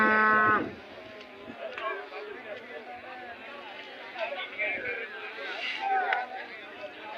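At the Gandasi cattle fair, a bull or cow lets out a short low moo at the start. A busy hum of people talking and livestock moving fills the rest of the clip.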